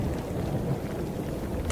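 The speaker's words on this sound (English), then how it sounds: "Wind sounds in the mountains." Steady mountain wind ambience from Minecraft, a broad low rushing roar that holds at an even level throughout with no gusting breaks and no voices.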